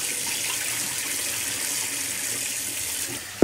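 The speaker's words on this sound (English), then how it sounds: "So make sure you rinse your rice 3 or 4 times through." Cold tap water runs steadily into a pot of rice being rinsed, a continuous hissing splash at close range, ending with a short knock.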